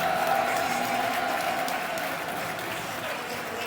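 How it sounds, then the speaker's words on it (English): A sellout crowd at the Den, Millwall's football stadium, applauds in a broad, sustained roar of clapping and crowd noise with a faint steady tone running underneath. "Huge round of applause around the Den"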